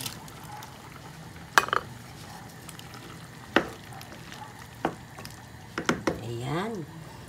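Carrots and sliced hotdog go into a pot of chicken macaroni soup: a few sharp clinks of a utensil against the pot and some soft stirring and splashing, spread across a quiet kitchen.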